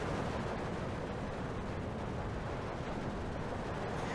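Dense, continuous battlefield din from mortar and tank fire in Steel Division 2, with rolling booms and crackling gunfire merged into a loud, unbroken roar throughout and no clear gaps.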